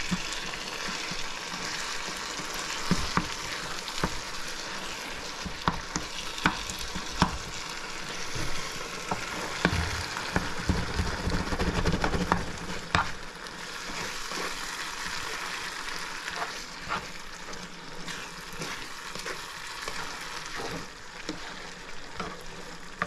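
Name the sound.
vegetables and smoked herring frying in a pan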